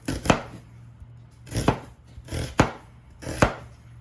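A knife chops diced onion on a cutting board in four loud, sharp, evenly spaced strikes close by, with quiet gaps between them and no talking.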